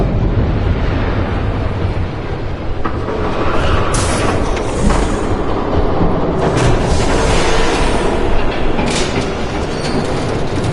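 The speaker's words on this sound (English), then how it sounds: "There's a train coming." A train in the Batman Telltale game rumbles loudly and continuously, with rattling clickety-clack and bursts of higher hiss and squeal, steady throughout with no talk.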